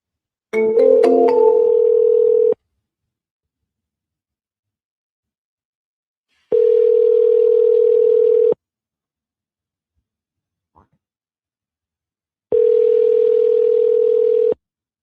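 Telephone ringback tone before a call goes to voicemail: three loud, steady, identical tone bursts of about two seconds each, separated by long silences, heard alone without any voices.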